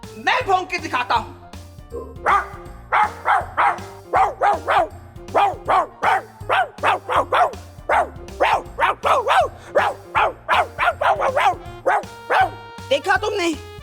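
A man imitates a dog barking with a long, steady run of rapid, loud woof-like yelps, close to the listener.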